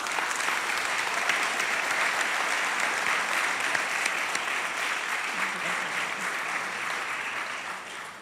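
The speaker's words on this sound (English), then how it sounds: "Another round of applause." A room of attendees at a Buffalo school board meeting gives a steady round of applause, an even wash of many hands clapping at moderate distance that tapers off gently at the close.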